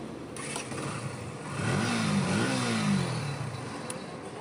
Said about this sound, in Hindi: एकदम ठीक है बाइक, बढ़िया चल रही है